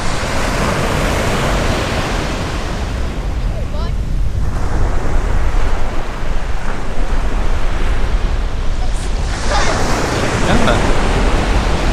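Waves washing onto the beach at Hamlin Bay, a loud continuous roar of surf with surges and wind buffeting the microphone, sustained throughout.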